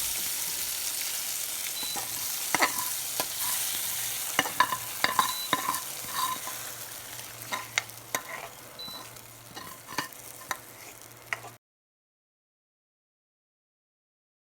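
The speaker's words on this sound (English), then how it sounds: "Open the lid and put the masala to the pressure cooker." Hot masala tempering hits dal in a pressure cooker, producing a steady close sizzle with scattered pops and stirring scrapes that gradually fade before cutting to silence.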